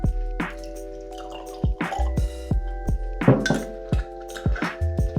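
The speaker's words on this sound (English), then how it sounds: "Just gonna pour some straight into this Glencairn." Homemade apple cider poured straight into a Glencairn glass, a close, gurgling trickle broken up by repeated glugs and drips, with a few light taps of glass.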